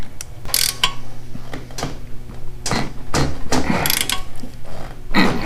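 Wrench ratcheting close up as nuts are tightened on the shifter shaft of a 1985 Honda Shadow 700 motorcycle, with repeated clicking pawl bursts and metallic clanks over a low mechanical hum.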